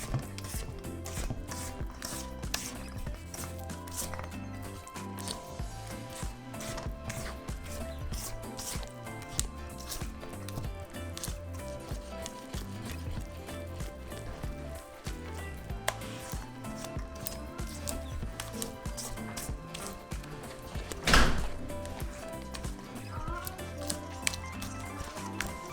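Dough for Mexican piloncillo sweet bread being mixed by hand, with continuous wet squishing and slapping at close range and one louder knock near the end, without speech.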